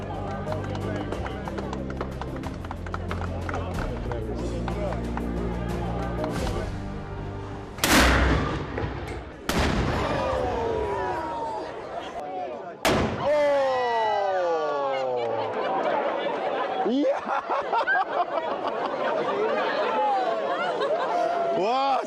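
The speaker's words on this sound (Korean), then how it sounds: "이거 뻥튀기 소리가 아니고 정말 대포 소리입니다" A busy crowd chatters in a Croatian city, then several loud cannon booms ring out one after another, echoing while people keep talking.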